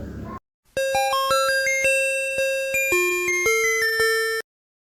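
An electronic bell-like chime plays a rising, stepped melody of about a dozen clear tones, loud and close, after a brief burst of noise, signalling sleep time in a mafia game staged in a theater.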